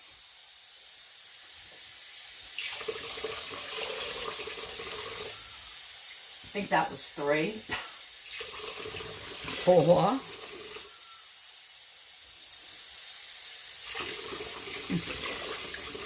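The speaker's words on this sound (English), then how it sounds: "So now what I'm adding is 6 cups of water." Water streams steadily into an Instant Pot with a hissing rush, six cups for split pea soup, pausing and resuming, while a person speaks briefly between pours.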